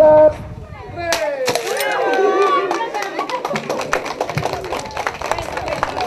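Applause at a regional government community event in San Pedro de Cachora, Apurímac, beginning after a voice and swelling into dense, lively clapping from a crowd, with talking and shouts mixed in.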